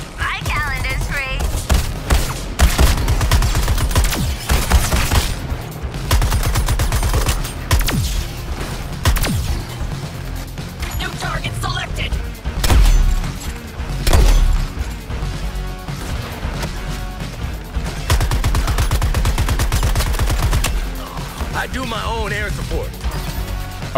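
Rapid bursts of gunfire in Suicide Squad: Kill The Justice League, dense volleys and crashing impacts repeating through a long firefight, loud and close, with players talking in between.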